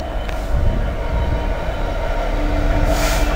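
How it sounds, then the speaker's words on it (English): A heavy coal train rumbles past close by at Nuneaton, a steady low roar of wagons rolling on the rails with faint squeals, no talking. "And a coal train just going through,"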